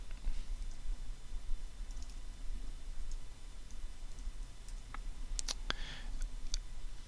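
Sparse computer mouse clicks from someone working in 3D animation software, a few sharp, faint clicks clustered near the end over a steady low hum, with no talking.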